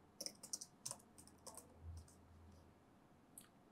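Java code being typed on a computer keyboard: a quick run of crisp, close key clicks, then a few scattered taps and a final keystroke in a quiet room.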